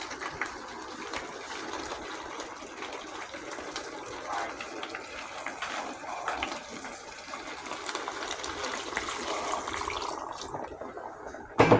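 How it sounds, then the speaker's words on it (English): Water runs steadily with a continuous splashing hiss for several seconds, close by, poured into a cooking pot over potatoes and carrots, with no talking over it. "I'm gonna put some water in it."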